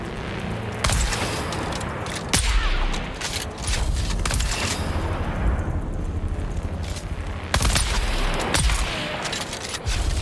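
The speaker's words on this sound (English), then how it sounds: "Tossing grenade." A grenade blast and gunfire in the video game Dune: Awakening: a dense, continuous run of loud booms and rapid shots, with several sharp heavy impacts standing out against a steady roar of combat.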